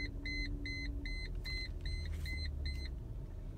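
A Mercedes ML500 dashboard warning chimes in a steady train of about nine short, evenly spaced beeps over a low idling rumble inside the car.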